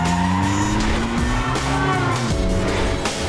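A car's tires skid and squeal as it swings around in a turn, a loud sustained screech with rising and falling pitch over engine noise, close and continuous.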